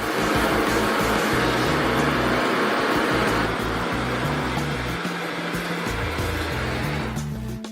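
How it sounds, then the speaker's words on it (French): A gas torch heating a glass bottle gives a loud, steady roaring hiss that runs unbroken and fades slightly near the end, with a low mechanical hum underneath. Nobody speaks. "Nous allons maintenant chauffer la bouteille à l'aide d'une torche jusqu'à ce que le verre soit chauffé et devienne souple et flexible"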